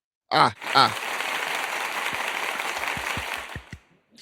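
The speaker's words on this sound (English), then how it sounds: "I think we might have an applause button" An applause sound effect triggered from a button on a talk show, a short burst of clapping and cheering that swells, holds for a few seconds, then thins out into a few scattered claps.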